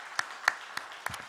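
A handful of sparse, separate hand claps from a church congregation at a Christmas service ring out at an uneven pace, faint and slightly roomy, with no sustained crowd applause.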